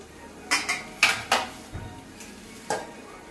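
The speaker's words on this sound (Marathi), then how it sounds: "एकत्र करून आपण मिक्स करून घेणार आहोत" Spoon clinking against a bowl while garlic-chili paste, red chili powder and white sesame seeds are mixed for crispy coriander vadi, giving a few sharp scraping clinks spread out over a quiet background.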